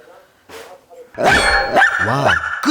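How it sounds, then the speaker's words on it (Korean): A dog indoors keeps up loud, close barking that grows into a long run of sharp barks and yelps, with brief voices mixed in. "와, 끝이 없는 녀석의 짖음."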